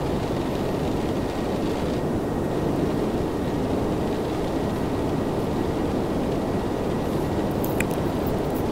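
A simulated iFly 747-400 airliner climbs out after takeoff in Flight Simulator 2004, its engines a steady, dense, broadband roar that holds unchanged throughout.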